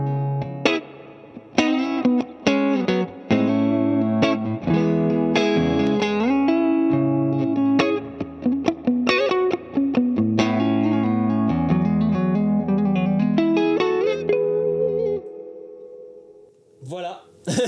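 An electric guitar plays an intro through a reverb effect, with clean picked notes and chords ringing into a wet, echoing tail. The playing stops near the end, leaving brief sounds.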